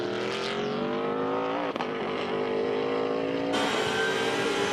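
Race car at the Oak Tree Grand Prix, an ALMS 2013 race, rejoining the track after going off onto the grass, engine droning loudly with a steady note that shifts as it climbs through the gears.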